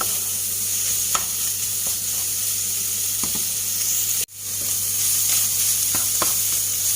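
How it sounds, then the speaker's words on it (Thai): Thai curry paste stir-fries in a hot pan for a river snail curry, a loud continuous sizzle near the mic with scattered spatula scrapes and one abrupt momentary dropout. "ผัดให้เข้ากันเลยค่ะ ให้เครื่องแกงหอมๆนะคะ"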